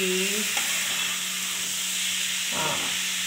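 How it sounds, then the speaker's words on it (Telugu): Soft paneer is gently stirred in a hot pan over a constant loud sizzle and steamy hiss, with a couple of brief scraping strokes standing out against the frying noise and no speech. "బాగా కొంచెం మెల్లగా కలపాలండి పన్నీర్"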